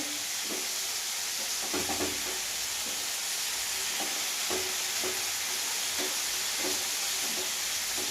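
Chicken for an Afghani gravy fries in a pan with a loud, continuous sizzle and hiss, while repeated stirring scrapes and clinks sound every second or so.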